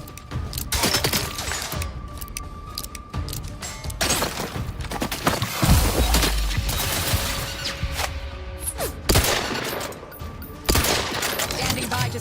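Rapid bursts of gunfire crack through a firefight in The Outer Worlds 2, dense volleys with sharp impacts and shattering debris, loud and close, punctuated by brief pauses and heavier thumps.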